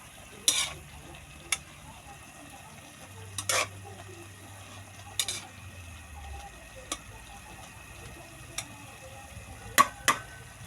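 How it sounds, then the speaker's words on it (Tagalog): A spoon scrapes and clinks now and then while yardlong beans for adobong sitaw cook in a pan, under a faint steady sizzle, with a low hum partway through and no speech. "Tapos, haluin ko muna."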